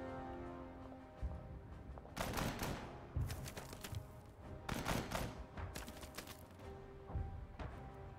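Bursts of tank and battlefield gunfire in the strategy game Total Tank Generals, set at Stalingrad: several sharp cracks and short volleys spread over a few seconds, fairly distant and quiet, with no voices.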